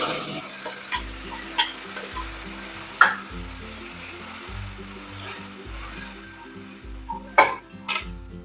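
Curd is poured into hot tempering for dahi bhaat and sizzles as a spoon stirs it, knocking and scraping the metal pan with clinks in an uneven rhythm, close by with no talking.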